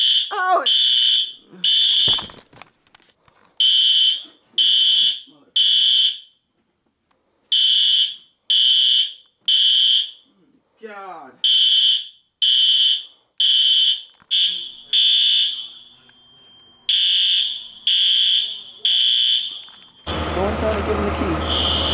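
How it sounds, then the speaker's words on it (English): A hotel fire alarm sounds in loud, regular bursts of a high electronic tone separated by short gaps, with a few voices heard between the blasts and a broad noise taking over at the end. "Somebody set off the fire alarm at the hotel."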